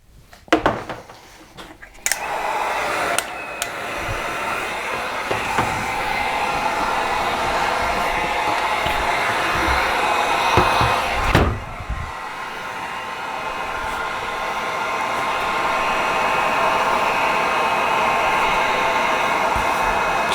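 Heat gun warming a damaged plastic car bumper, a continuous close blowing whoosh that starts after a short rustle, cuts out for a moment and resumes, growing steadily stronger.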